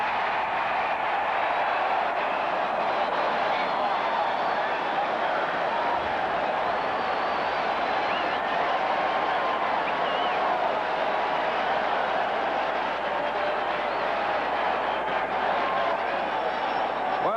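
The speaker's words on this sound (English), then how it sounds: "The crowd enjoyed that one." A dense, steady roar of a stadium crowd cheering a touchdown at a 1992 NY Jets home game against the Cincinnati Bengals, sustained throughout, with voices talking over it.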